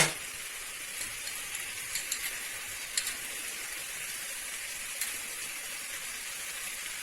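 Boiled chicken pieces fry over a medium flame for chicken kosha, giving a steady, close, hissing sizzle with a few soft stirring clicks and scrapes scattered through it.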